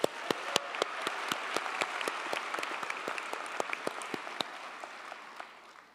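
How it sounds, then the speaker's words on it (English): Graduation ceremony audience at a university commencement gives sustained applause, a dense roomy wash of many hands with crisp individual claps close by, gradually tapering off. "may I please request you all to give them a round of applause again"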